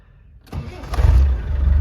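A 1995 Land Rover Defender 110 camper with a 300tdi diesel cranks briefly after a short quiet moment, then catches and settles into a loud, close, rumbling idle.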